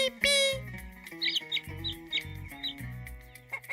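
A small yellow farm chick gives a string of about five short, high peeps, evenly spaced and clear, over a steady bed of music.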